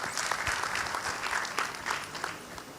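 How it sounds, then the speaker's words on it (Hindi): An audience gives warm, steady applause to welcome a forest officer onto the stage at a televised event, many hands clapping together at moderate volume. "मैं चाहूँगी तालियों के साथ उनका स्वागत करें।"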